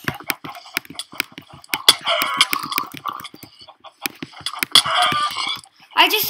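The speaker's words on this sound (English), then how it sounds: "I just always get chickens." Game chickens cluck in short bursts during a party video game, with repeated clucks and squawks mixed among loud clicking sounds and frequent speech.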